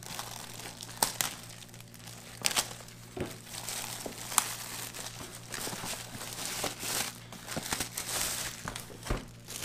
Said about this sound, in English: Let me cut the plastic off of it.